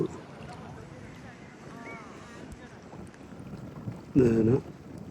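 A motorboat engine kicks in with a short, loud burst of throbbing rumble, standing out over steady wind noise on open water off Adelaide, South Australia.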